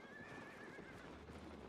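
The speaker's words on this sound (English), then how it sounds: "Well, we have the donkey." Hoofbeats of a donkey mount in Albion Online, a steady clopping walk with a whinny-like tonal call near the start, heard close and fairly even throughout with no talk over it.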